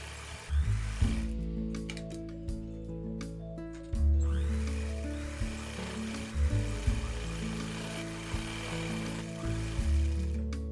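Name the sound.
sewing machine stitching along a kids' kameez armhole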